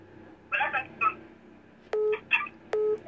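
Telephone keypad tones beep for a second call, two long steady tones interleaved with short chirpy electronic sounds, close and clear with a faint background hum.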